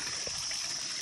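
Water pours steadily from a village spring tap in a continuous, loud, close rushing flow with no voices.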